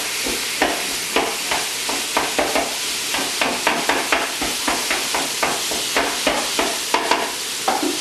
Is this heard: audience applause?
no